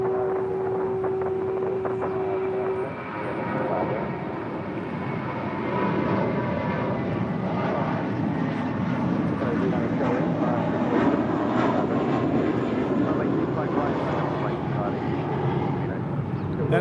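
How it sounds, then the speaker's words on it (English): JetBlue Airways Airbus A321 jet departing LAX, a steady loud broadband engine roar and rush that holds throughout, with a voice talking over it. "That is JetBlue Airways, flight 1124, departing to JFK on an A321."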